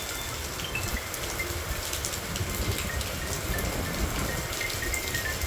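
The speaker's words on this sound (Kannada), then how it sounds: "ನೋಡಿ ಎಷ್ಟು ಮಳೆ ಹೋಗ್ತಾ ಇದೆ." Heavy rain pouring down outdoors, a steady broadband hiss of drops hitting surfaces, constant and fairly close, with no voices.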